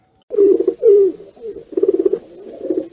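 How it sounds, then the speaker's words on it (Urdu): A white pigeon coos close by in a series of soft, throaty, rolling calls, repeated several times with brief pauses between them. "لیں جی، آ گیا کبوتر"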